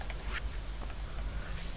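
Steady soft rain patters through a Stardew Valley game scene, a faint, even hiss with a few brief drip-like ticks and no voices.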